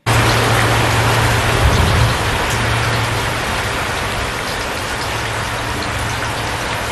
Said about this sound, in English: It's raining heavily and class is on the other side.